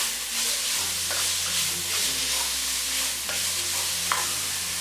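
Garlic and onion sautéing in a pan with a continuous close sizzle and occasional stirring scrapes, over a steady low hum in the background, no voices.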